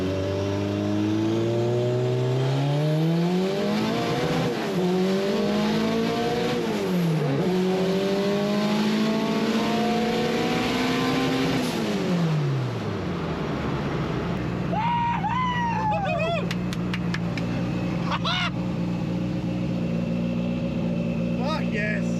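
A rebuilt race car engine runs at a track, revving loud and close in rising and falling sweeps before settling into a steady idle, with some people talking over it.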